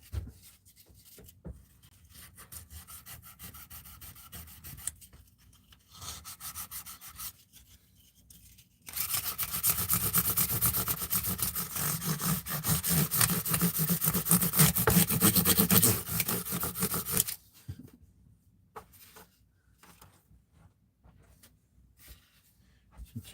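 A guitar being sanded with 2000 grit sandpaper, heard as bouts of close, hissy back-and-forth rubbing with a long, steady, louder stretch in the middle and quieter strokes before and after.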